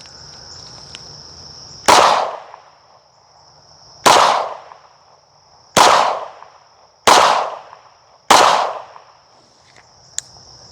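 A Romulus 1K pistol fires five sharp, loud shots at a shooting range, spaced about one to two seconds apart, over a steady high insect-like whine in the background.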